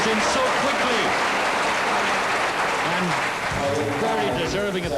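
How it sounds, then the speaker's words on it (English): Audience applause at a 1981 squash match in Ireland, a continuous crowd clapping wash heard beneath a commentator's voice throughout. "Very deserving of that applause."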